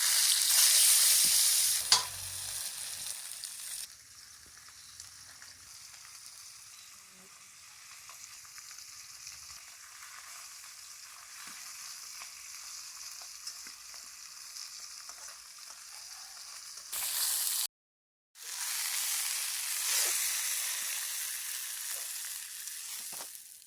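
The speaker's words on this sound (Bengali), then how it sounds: "একইভাবে বাদবাকি মাছগুলোও ভেজে নেব।" Fish frying in hot oil in a pan, a steady close hiss of sizzling with louder bursts at the start and end, interrupted by a brief silence.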